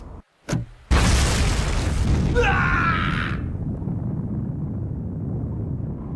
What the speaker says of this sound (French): Quelque chose vient d'exploser.